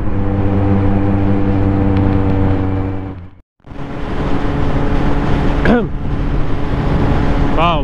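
Road traffic rumbles around a motorcycle rider in Italy, engine hum and passing vehicles forming a dense, steady drone with a brief dropout midway and a couple of sharp rising tones.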